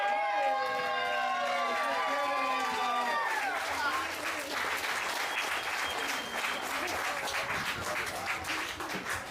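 Crowd at a Features Only Winter Wonderland event cheers and applauds the winner of the Moms with Tricks division, a dense steady wash of clapping and shouts filling the whole stretch, with a voice talking over the start.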